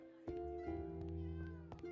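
A cat in a video game meows in one drawn-out, close, clear call, tonal and wavering, heard alone without talking.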